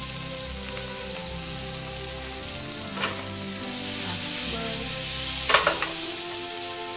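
Spices such as asafoetida sizzle in hot oil in a pan, a steady close frying hiss broken by a few brief scrapes as they are swirled and stirred.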